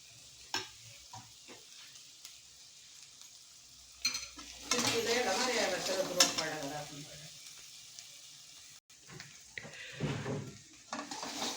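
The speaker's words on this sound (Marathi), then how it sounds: "चांगले तेल सुटेपर्यंत मसाले परतून घ्यायचे" Spices sautéed in oil in a pan: a soft sizzle swells into a stronger crackling frying stretch in the middle, with occasional utensil scrapes and clinks, close by and moderately quiet.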